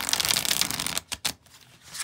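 A deck of thick, flexible oracle cards is shuffled up close: a dense riffle of flicking card edges for about a second, then a couple of sharp taps and slides.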